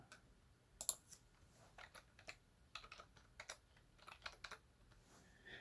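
Someone types on a computer keyboard in soft, irregular bursts of clicking keys, close but quiet, with a few sharper taps among them and no talk.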